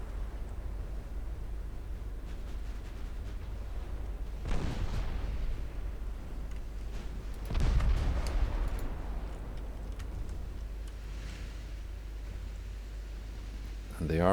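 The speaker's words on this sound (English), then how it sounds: "And they are firing back at me now" Naval artillery from light cruiser 6-inch guns in Ultimate Admiral Dreadnoughts, two deep booms spaced a few seconds apart over a steady low rumble, moderately loud and without talk.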